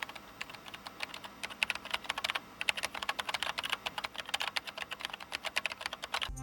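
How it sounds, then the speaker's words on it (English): Rapid, uneven tapping of computer keyboard keys, close and fairly crisp, with bursts of keystrokes and brief pauses over a faint room hiss, no voices. "it's just the tapping of keys"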